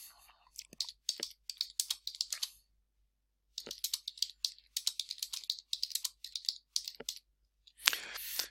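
Close, crisp typing on a computer keyboard as a comment is written, in quick bursts of clicking keystrokes separated by short pauses, ending with a louder flurry.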